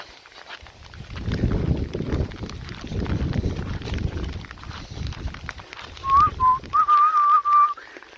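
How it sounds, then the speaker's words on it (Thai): Wind gusts and buffets the microphone at a mountain campsite on Doi Tapang, Chumphon, rumbling loudly in surges, then easing as a clear whistled tune plays near the end. "ลานลมโชย ลมโชยจริงๆครับ"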